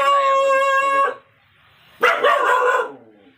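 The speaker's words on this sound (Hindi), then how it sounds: "उस पर भौंके जा रहा है भाई" A dog barks and howls at night in heavy rain, giving one drawn-out tonal howl, then a pause, then a rougher, louder bark-howl, close and prominent.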